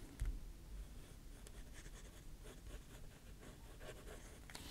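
A pen marking a line onto a paper sewing pattern where it deviates from the wire line, a soft continuous scratchy scribble close up and quiet.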